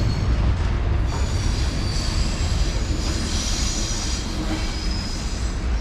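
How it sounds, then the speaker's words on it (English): A Class 700 Thameslink train pulls in at a West Sussex station platform, its steady loud rumble and rolling wheel noise filling the scene with a faint squeal of wheels, close by and with no voices. "here is 700 103. This is our 1225 Thameslink service."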